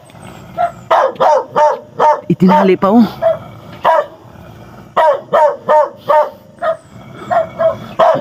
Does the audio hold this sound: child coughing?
no